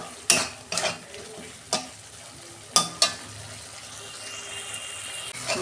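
Spices and tomato sauté in a pan for a fish curry, a low sizzle broken by several sharp scrapes and knocks of a spatula, spaced irregularly and close up, without speech.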